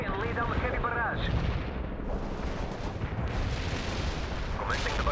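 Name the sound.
artillery barrage in World in Conflict video game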